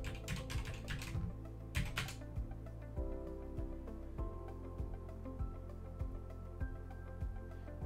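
Quiet typing on a computer keyboard during a Windows 11 password reset, a quick cluster of keystrokes followed by spaced individual taps over a low steady hum.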